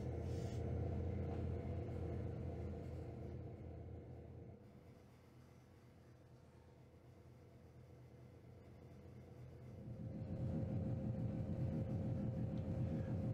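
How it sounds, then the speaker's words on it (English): Heavy Conrail coal train hauled by six GP38 diesel locomotives at a mine loadout, a steady low rumble that eases off midway, then swells back louder as the engines work the tonnage. "With several thousand tons of coal in tow, the six GP38s on the front end began the fight to get the tonnage up to speed."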